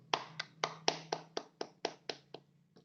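Applause for a presenting student group in a classroom: about ten sharp, separate claps at a steady rhythm, close and moderately loud with no talk over them, with a faint low hum running underneath.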